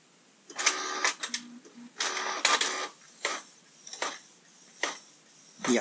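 A Canon PIXMA MG6450 inkjet printer whirs and clatters in short mechanical bursts while running its startup self-test, its carriage moving back and forth with pauses between passes, close and clear.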